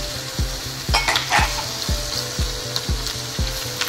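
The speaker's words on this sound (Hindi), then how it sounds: "गोश्त डाल के ये अदरक का लहसुन का पेस्ट डालेंगे।" Meat sizzling and frying in a pot with ginger garlic paste, a spoon scraping and stirring in a steady rhythmic pattern of repeated knocks against the metal, close and loud with no talk.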